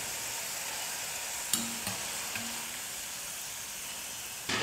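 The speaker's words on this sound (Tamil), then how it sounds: "இதே போல் மீதி இருக்கிற எல்லா உருளைக்கிழங்கையும் எண்ணெயில் போட்டு பொரிச்சு எடுத்துக்கிறேன்." Potato pieces deep-fry in oil for a potato and egg snack, giving a faint, even sizzle with a few light metallic clinks from a utensil spaced through it.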